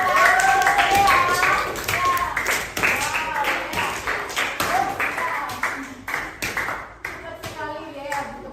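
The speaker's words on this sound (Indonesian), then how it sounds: "Oke, berikan tepuk tangan." Classroom applause, a burst of many hands clapping close by with children's voices chattering over it, fading into scattered claps toward the end.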